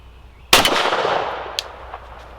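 A single sharp Glock pistol shot in 10mm or .45 ACP, loud and close outdoors, followed by a quick trailing echo and a small click of ejected brass.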